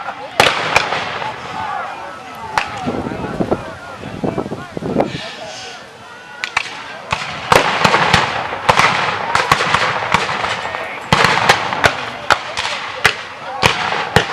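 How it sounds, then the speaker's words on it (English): Black-powder artillery and musket fire at a Civil War reenactment muster in Jackson, with repeated sharp loud bangs and pops scattered irregularly throughout, some overlapping, over crowd noise and a voice talking. "some artillery firing into the flank of the Union soldiers"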